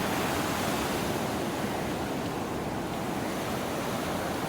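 Ocean surf washes continuously onto a beach ahead of Hurricane Laura at high tide, a steady, even roar of breaking waves without distinct individual crashes.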